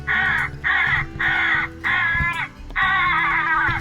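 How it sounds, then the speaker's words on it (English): Several crows caw close by outdoors, a run of five harsh, evenly spaced calls, each about half a second long with brief gaps between them, loud and clear over faint background noise. "we just heard some crows right then"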